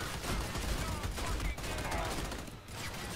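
Rapid bursts of gunfire crackle in a firefight in the video game Army of Two, dense and continuous with a few louder shots, set under faint game ambience.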